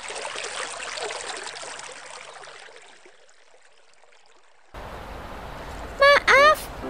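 Rushing river water from an Indonesian folk-tale cartoon flows steadily and fairly loud at first, then fades away before a sudden shift to another scene where a brief voice is heard.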